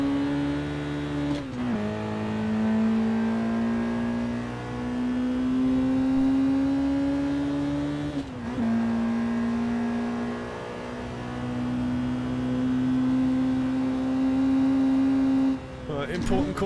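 The driver's own car runs flat out on a race track, its loud engine note climbing steadily in pitch, then dropping sharply at each of three gear changes before rising again.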